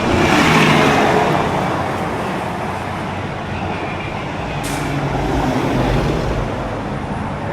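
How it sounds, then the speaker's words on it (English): Road traffic with a truck slowing for a red light near Daytona Beach, a broad steady engine and tire rumble that stays close and gradually eases. "This truck seems to be wanting to do the right thing. He's slowing down."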